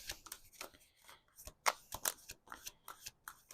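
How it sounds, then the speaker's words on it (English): A tarot deck being shuffled by hand, with quick irregular riffling card flicks and soft slaps close to the microphone, no talking. "I just take whatever comes out when I'm shuffling"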